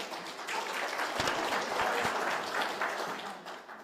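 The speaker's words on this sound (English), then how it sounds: "Can we give him another round of applause" Audience applause at a regional ministerial business engagement in Otjozondjupa, a steady dense wash of clapping lasting the full few seconds without letting up.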